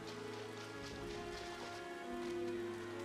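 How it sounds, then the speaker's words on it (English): Steady rain falls in Final Fantasy XIV, a continuous hiss with soft patter that stays even throughout and swells slightly toward the end, with game ambience and tones underneath. "God, it's raining."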